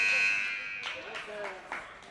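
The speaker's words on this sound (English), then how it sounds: "Buzzer has gone inadvertently" A steady electronic buzzer tone sounds by mistake for about half a second at a World Ball Hockey Championships game, then fades amid a noisy arena crowd with scattered short bursts of noise.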